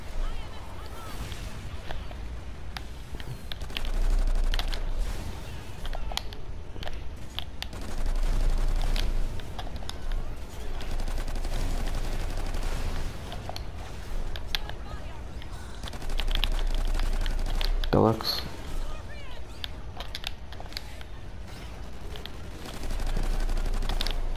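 Continuous gunfire from pistols and other weapons in Call of Duty Ghosts Extinction, dense clattering shots running steadily throughout with a voice talking over the action.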